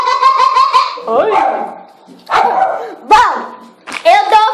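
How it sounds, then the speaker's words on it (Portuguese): Kika, a small pet dog, lets out a string of sharp, high yaps and yips in quick bursts, close and loud, interspersed with whining squeaks. "A Kika é a nossa cachorrinha que tá latindo lá."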